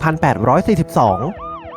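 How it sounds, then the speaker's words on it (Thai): An ambulance siren wails loudly in quick rising and falling cycles, then its pitch sweeps lower as it passes and pulls away, the Doppler shift plainly audible. "ไซเรนของรถพยาบาลไม่ได้เปลี่ยนความดังเสียง แต่คลื่นเสียงกำลังถูกบีบอัดเมื่อใกล้เข้ามา และถูกยืดออกเมื่อรถพยาบาลห่างออกไป"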